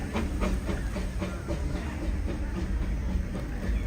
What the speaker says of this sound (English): The train is actually coming by right now. We can hear it.